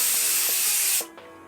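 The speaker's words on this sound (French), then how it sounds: "J'ai même acheté un truc incroyable, une machine à fumer en canette en gros." Aerosol can of smoke for film-set haze spraying in one loud, steady hiss that cuts off abruptly after about a second, leaving a quiet room with faint knocks.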